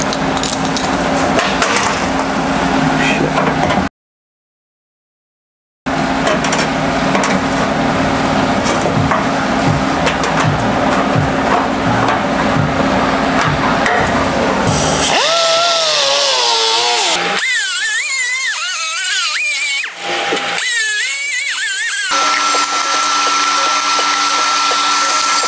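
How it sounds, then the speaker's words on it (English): A power cutting tool slices a steel VW Beetle fender along a scribe line, a loud continuous harsh grinding whine broken by a short silent gap, then shifting to a higher, wavering pitch in uneven bursts near the end. "I'm gonna cut on my scribe line"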